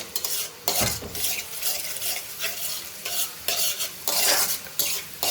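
Chicken and cauliflower curry frying in a pan, a loud crackling sizzle broken by repeated scraping stirs of a spoon against metal, in close, irregular bursts with no talk.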